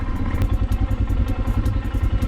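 A motorcycle idles up close on a Himalayan pilgrimage route to Adi Kailash, its engine thumping in a quick steady rhythm with light clattering ticks on top.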